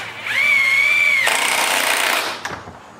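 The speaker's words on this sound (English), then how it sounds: "Got a screw that'll go in here." A power driver sends a screw into a 3/4 wrap handlebar kit on a Stihl MS400 chainsaw. A close, loud motor whine holds steady for about a second, then turns into a harsh grinding burst before stopping.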